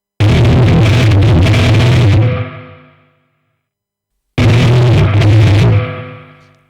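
Electric guitar played through a NUX MG-30 modeler on preset 4A with NAM, two loud strummed chords ringing out and decaying to silence, alone with no talk.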